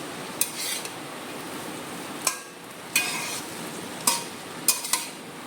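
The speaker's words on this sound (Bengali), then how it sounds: "তাই আবার হালকা নুন দিয়ে একটু নাড়িয়ে চাড়িয়ে নিই" Chowmein noodles with Maggi and a pinch of salt stirred in a pan: a handful of sharp metal scrapes and taps at irregular intervals over a steady low sizzle, close by and moderately loud, with no talking.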